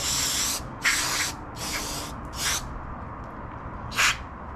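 Brake parts cleaner sprays onto a Toro lawn mower carburetor in five close, loud hissing bursts. The bursts vary in length, with a long gap before the last one.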